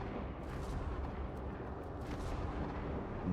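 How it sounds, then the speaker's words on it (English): In the video game Survive Pyro, someone fires on abandoned ships lying around a trader area. The result is a steady, rumbling wash of distant gunfire and heavy impacts, continuous and moderately loud, with no voices. "Someone is shooting at the ships that laying around."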